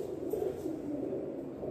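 A pair of Russian Volga pigeons coo softly up close, a low rolling murmur that repeats in gentle pulses over quiet room noise.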